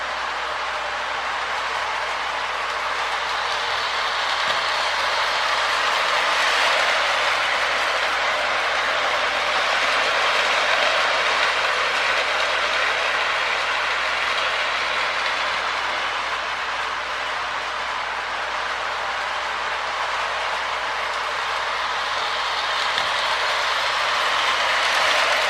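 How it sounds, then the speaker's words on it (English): A K-Line Hershey's Pacific toy steam locomotive, built on the Marx 333 mold with two rear traction tires, runs steadily along its track, giving a continuous mechanical whir and clatter at an even level with no voices. "Really nice running locomotive."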